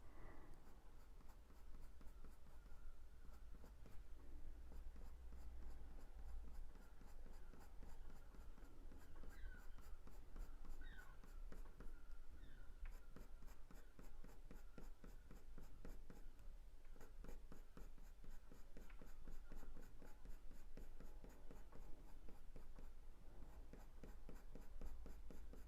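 Coloured pencil shades on paper, drawing a blue tit, in a close, continuous scratchy rasp of quick back-and-forth strokes with a faint low hum beneath and no talking.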